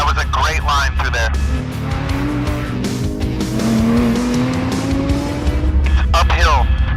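A Porsche 911 R driven hard through an uphill right hairpin, engine note dropping under braking then climbing as power goes on, with brief tyre squeal; a voice talks over it throughout.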